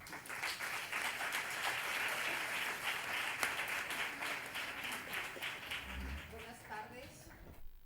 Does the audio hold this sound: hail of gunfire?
no